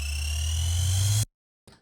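Unfiltered riser sample with heavy bass and cymbal wash, a loud sustained swell with booming low end and hissing highs that stops abruptly after about a second, followed by a brief faint tail.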